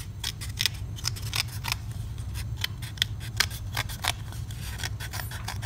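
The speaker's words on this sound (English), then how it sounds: "finish it off with a pair of scissors" Repeated crisp snipping of scissors cutting through paper, irregular short strokes close up over a steady low hum.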